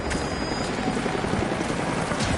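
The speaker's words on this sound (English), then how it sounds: "Jacob, helicopters are headed your way." A helicopter's rotor chops and whirs continuously in the video game Lara Croft Tomb Raider under a dense wash of noise, loud and close, with no voices.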